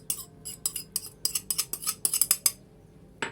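Cubed potato salad with onion and vinegar being tossed with a spoon in a bowl: a rapid run of close clinking, scraping utensil strikes, loud and alone.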